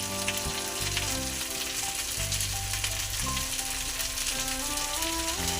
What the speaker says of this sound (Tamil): தேங்காய் பேஸ்ட் போட்டு ஒரு கொதி வந்துடுச்சு.